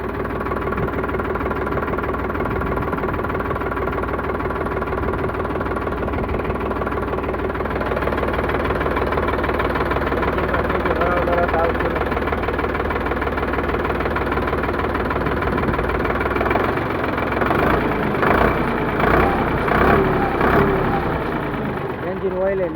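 A 2013 Sonalika RX 60 DI three-cylinder tractor idles with a steady knocking diesel rumble close by, while people talk over it and some clattering rises toward the end.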